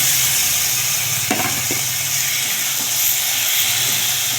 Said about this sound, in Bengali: আদাটা ভালো করে কষানো হয়ে গেছে এবার দিয়ে দেবো মাংস মিশ্রটাকে দিয়ে দিলাম